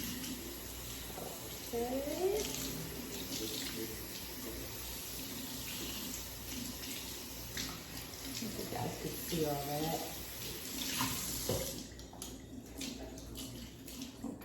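Warm tap water running steadily into a sink while a raw Indonesian hair frontal is washed, a continuous close splashing hiss with someone talking over it, the flow cutting off near the end.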